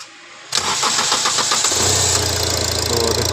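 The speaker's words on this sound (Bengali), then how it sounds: "তো এখন সেলফ মারে দেখবো স্টার্ট হচ্ছে কিনা।" Car engine cranking on the self-starter with rapid rhythmic turning, then catching and settling into a loud steady idle, heard close up after a fuel pressure regulator control circuit fault was worked on.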